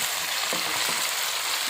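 Chicken with ginger garlic paste sizzles steadily in a hot kadai as it is stirred, a loud, continuous frying hiss with a few soft scraping stirs, no talking.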